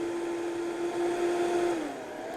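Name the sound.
blender blending herbs for green goddess dressing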